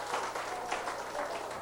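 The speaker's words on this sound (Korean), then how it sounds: "박수 한번 해주세요." Church congregation at a young adults' Sunday service applauding, a steady wash of clapping that fills the short moment evenly at a moderate distance.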